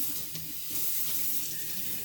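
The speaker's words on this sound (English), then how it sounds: "Now I'm going to rinse this in warm water." Warm water runs steadily from a kitchen tap into the sink to rinse a water bottle, making a close, continuous splashing rush with no voices.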